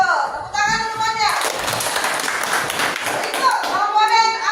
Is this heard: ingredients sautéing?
no